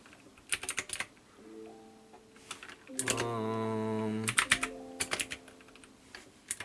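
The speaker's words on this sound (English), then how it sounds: "my keyboard's super loud because I haven't bought new switches for it" Loud clacking bursts from a mechanical computer keyboard with worn switches come in quick flurries, separated by stretches of a sustained tonal hum.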